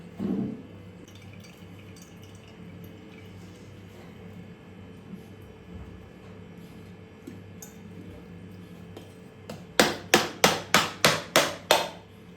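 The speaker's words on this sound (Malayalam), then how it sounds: "ഇത് പൊട്ടിച്ചു നോക്കാം, നല്ലതാണോ മോശമാണോ എന്ന്." A coconut being cracked open by striking it: a quiet stretch of room noise ends in a quick run of about eight sharp, loud knocks close by.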